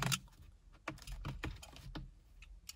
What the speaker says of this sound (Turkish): Falçatayla şu dikiş yerlerini sökeceğiz.